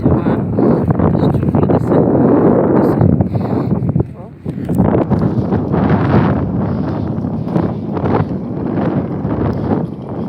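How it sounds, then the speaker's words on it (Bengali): Strong wind buffets the microphone in continuous low roaring gusts beside ponds at Patikola wetland in Rajshahi, Bangladesh, with a voice speaking intermittently underneath. "এখানে অনেক বাতাস"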